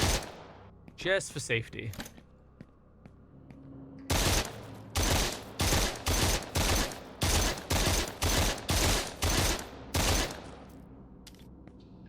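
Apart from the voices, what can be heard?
rifle gunfire in a video game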